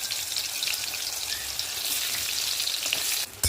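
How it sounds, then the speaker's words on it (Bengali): Chopped onions frying in oil previously used for fish, seasoned with black cumin, a dense, loud crackling sizzle that holds steady close up, with one brief sharp knock near the end and no speech. "কুচনো পেঁয়াজগুলো তেলের মধ্যে দিয়ে দেবো"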